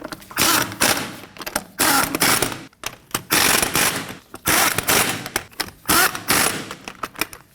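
A ratchet snugging lug nuts onto a 2015-2024 Ford Edge wheel, loud close bursts of rapid clicking in repeated strokes separated by short pauses.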